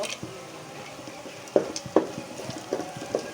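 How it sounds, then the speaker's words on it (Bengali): Bay leaves, cloves and cardamom frying in oil in a pan, with a soft sizzle and a few sharp stirring clinks and scrapes coming near and fairly loud at irregular intervals. "এখন আমি এই মশলাগুলো, তেজপাতা, লং, এলাচিগুলো ভেজে নেব"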